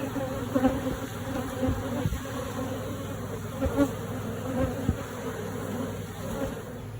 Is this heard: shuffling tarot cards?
no